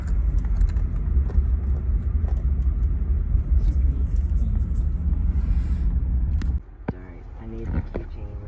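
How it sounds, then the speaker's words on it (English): A car engine idles steadily at close range as a loud, continuous low rumble for most of the span, then cuts off abruptly near the end, leaving quieter background sounds. "Leave the car running."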